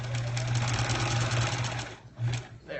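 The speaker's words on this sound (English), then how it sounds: "All right, I'm gonna just sew." A sewing machine stitching a quilt block, a continuous close mechanical whir with a steady low hum for about two seconds, a brief pause, then a short second burst of stitching.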